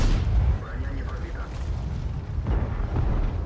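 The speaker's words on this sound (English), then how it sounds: "giving us some very easy shots into him" Tank cannon fire in World of Tanks aimed at an exposed VK 45.02 B from an Object 140: heavy booming blasts and low rumble, loudest at the start and again near the end, under ongoing commentary.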